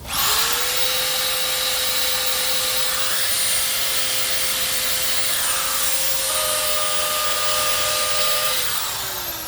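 A power tool with tungsten carbide tips strips coating from a boat hull, a steady, loud whining grind that holds unbroken throughout with slight shifts in pitch.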